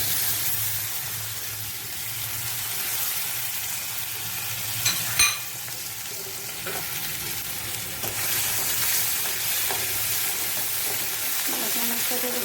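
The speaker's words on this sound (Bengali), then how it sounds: "বাটা মশলাটা যখন ভাজা ভাজা হবে তখন আস্তে আস্তে কমের দিকে রাখবেন, একটু পুড়ে না যায়।" Ground spice paste fries with taro and chickpeas in a pan, a steady close sizzle with a few brief stirring scrapes and spatters, no talking.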